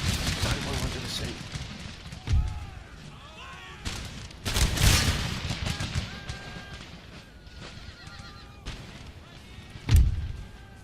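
Musket volleys and artillery fire in the Empire Total War battle game, with separate loud booms and crackling volleys spread out over the clip, mixed with voices shouting.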